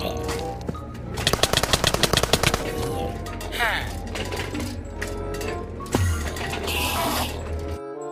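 Gunfire from guns in a Minecraft game set among Jurassic World dinosaurs: a rapid burst of evenly spaced shots near the start, then scattered louder cracks over a busy bed of game sound and music.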